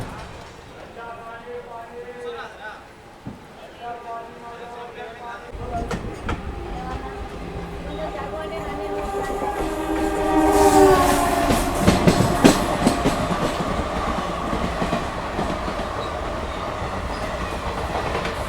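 Sirpur Kaghaznagar–Bidar Express 17012 rolling out of Manchiryal, with steady wheel rumble and rail clatter building louder through the run, under occasional talk.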